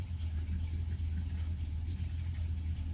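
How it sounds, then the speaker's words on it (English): A 1970 Dodge Dart Swinger with a 340 V8 idles steadily at low rpm, a close, continuous deep rumble with no voices. "And it's idling about 700-800."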